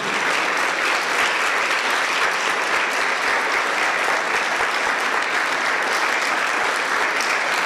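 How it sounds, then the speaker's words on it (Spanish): A church congregation applauds steadily throughout, a dense, even wash of clapping from many hands that stays loud and unbroken without talk over it. "Dale un aplauso al Señor, se lo merece."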